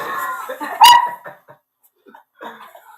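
A dog nearby gives a loud sharp bark, then a few short yips and whimpers with pauses between them.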